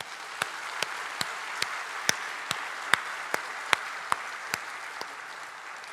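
Scattered, evenly spaced single claps ring out in a church congregation during a Sunday evening service, a slow, thin round of about a dozen distinct hand claps over a steady hiss.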